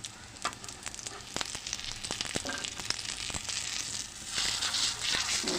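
Shami kababs sizzle in a little oil on a flat tava griddle, a dense crackling hiss with sharp pops and scrapes, swelling louder near the end.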